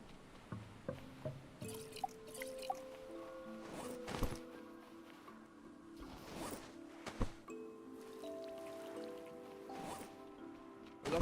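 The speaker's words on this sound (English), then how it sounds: "We can fill that up with water." Water poured and trickling into a container in the survival game Stranded Deep, soft liquid sloshes and drips interspersed with sharp interface clicks and tonal chimes at low volume.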